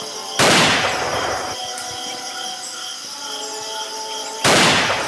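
A staged military battle reenactment of the 1976 Op Gubir II: two sharp, loud bursts of gunfire, the first with a rolling tail, the second near the end, over a quieter background.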